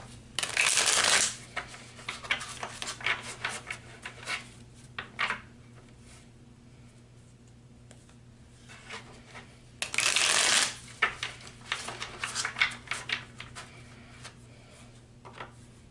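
Oracle cards being shuffled in several bursts: two loud riffle shuffles with softer shuffling and handling sounds between them, close and without talking.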